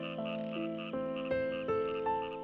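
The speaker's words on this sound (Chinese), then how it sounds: "青蛙和蟾蜍跳进水里主要是为了繁殖" Frogs and toads croaking at a breeding site, repeated tonal calls overlapping in uneven pulses, fairly close and clear, with no voices.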